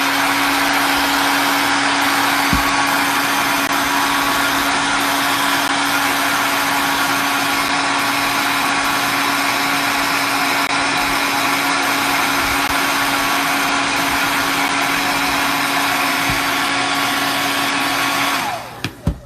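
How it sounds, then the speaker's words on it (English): A hair dryer blows steadily at close range with a constant whirring hum, running without pause for a long stretch, then cuts off abruptly with a few clicks. "give it a little heat from your blow dryer"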